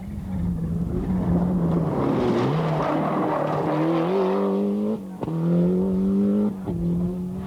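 A two-wheel-drive Cosworth rally car blasting through a stage of the 1992 Donegal International Rally, its engine roaring loud and close, climbing through revs with sharp gear-change breaks and rising pitch as it powers past.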